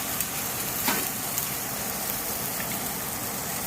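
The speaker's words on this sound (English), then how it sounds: "Once that's sizzling, then let it cook a little bit, high fire, so it can make a little bit of a crust." Steak with mushrooms, onions and peppers sizzling on a hot griddle over high fire, a dense, steady crackling hiss with scattered pops, close and fairly loud, no voices.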